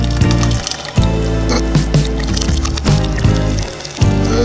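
Creamy Alfredo sauce pours into a pan with pasta, giving a thick, wet glugging and squishing stream close up that comes in several uneven surges.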